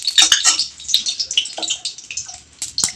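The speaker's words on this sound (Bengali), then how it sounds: "এই খুন্তিতে জল ছিল, সেই জলটা চিটপিট চিটপিট করছে" Water left on a spatula sputters in hot oil before potatoes are fried for home-style chow mein, a loud, close burst of crisp crackles and pops with light utensil clinks.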